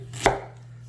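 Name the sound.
knife slicing a whole carrot diagonally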